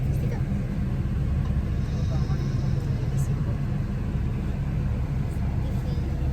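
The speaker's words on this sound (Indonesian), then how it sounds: "Sekarang kita udah di bis Sembodo juga, tapi beda bisnya." Steady low rumble and road hum inside a moving Sembodo executive-class long-distance bus, continuous and fairly loud with faint rattles and no change in pace.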